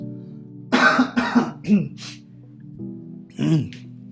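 A few harsh coughs in quick succession from someone recovering from COVID, then a short pause and one more cough, close and fairly loud.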